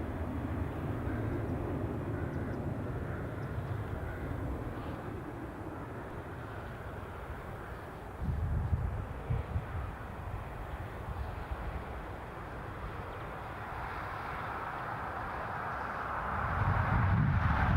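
A British Airways A320 airliner arrives at Newcastle Airport, its jet engine noise a broad, distant roar that stays steady, rumbles louder in the middle and swells again toward the end, with no voices.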